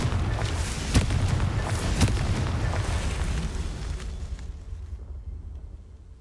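Confringo explosive spell in Hogwarts Legacy erupting into loud booming blasts, with sharp impacts near the start and again about a second later, then a rumbling tail that fades into silence.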